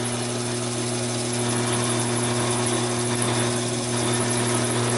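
Quarter-inch bit drilling a steel bar on a Taig lathe, a steady mechanical whine with strong sustained hum and constant motor drone, close and even throughout.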